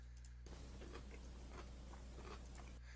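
Someone eats a cheese salad with audible crunching, soft irregular bites and chewing close to the microphone over a steady low hum.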